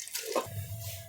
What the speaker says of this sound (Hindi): 3 से 4 गिलास हमने पानी भी इसमें ऐड कर दिया है।